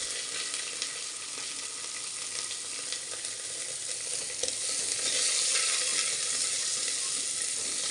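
Onion and ginger garlic paste sauté in a hot pan for beetroot pulao, giving a continuous close sizzle that swells slightly louder partway through, with no talking.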